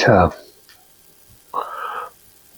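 Potatoes frying in a pan give a short, moderately loud sizzling burst of about half a second, following a brief voice at the start.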